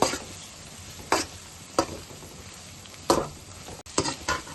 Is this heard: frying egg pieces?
yes